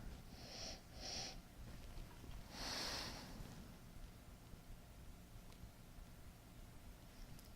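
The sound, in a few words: sniffing a blood orange Diet Coke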